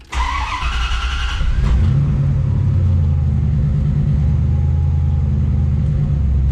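A six-speed car with a freshly hooked-up battery cranks briefly, then its engine catches and roars into a loud, close revving rumble that settles into a steady, heavy idle.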